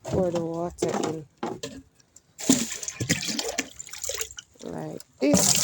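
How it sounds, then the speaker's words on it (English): Water poured from plastic buckets splashes and gurgles in a Jamaican backyard garden, heard in a few separate bursts with voices nearby between the pours. "Pour the water in"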